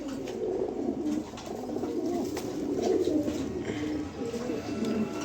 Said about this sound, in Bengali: এগুলো অ্যাডাল কবুতর এখনও জোড়া ধরে নাই